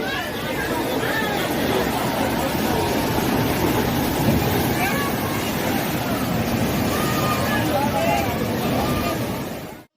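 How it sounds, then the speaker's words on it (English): Powerful floodwater surges in a continuous, loud broadband roar from heavy rainfall, steady and dense throughout with no distinct breaks, ending abruptly. "And the noise? It's like the roar of the ocean."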